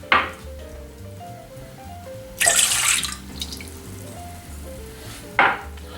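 Liquids poured into the bottom of a stand mixer bowl for bread dough, heard as a splashing pour in short bursts, the loudest around the middle, over a steady background hum.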